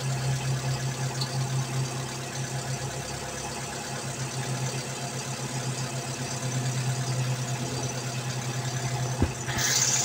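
A Hyundai Getz engine with a defective idle-up idles steadily with a low, even hum and a faint knocking rhythm, close by, with a short sharp click near the end.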